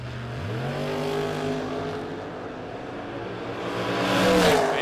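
Drag race cars at a no-box 660 shootout running side by side, engines droning loud and steady as they rev upward, with a rising roar and whine toward the end.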